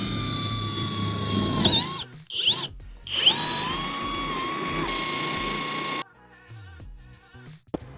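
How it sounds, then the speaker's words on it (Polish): Power drill countersinking screw holes inside a bus-based camper, whining loudly in several bursts with brief pauses and a spin-down, then quieter rattling and a sharp click at the end. "Muszę zrobić zagłębienie jeszcze przed każdym wkrętem, żeby on sobie głębiej wszedł."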